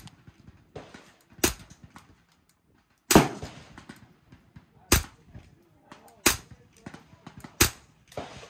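Sharp, loud .22 rifle shots from a Ruger 10/22 crack out one at a time, about five spaced a second or more apart, with faint low background noise between them.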